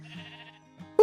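A sheep bleats in a pen in a video game, with a short, soft, wavering baa. A sharp louder sound cuts in at the very end.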